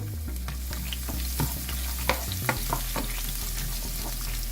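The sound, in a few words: chopped garlic frying in oil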